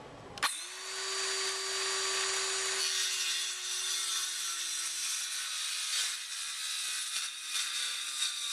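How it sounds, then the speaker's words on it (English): A cut-off saw spins up with a sharp whine and bites through a wooden board for a mini cocktail arcade cabinet. The loud, close, high-pitched cut runs steadily for several seconds, then the blade winds down. "This is just cut-off saw work."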